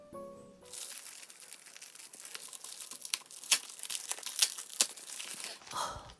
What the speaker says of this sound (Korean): 함께 택배도 언박싱 해봅시다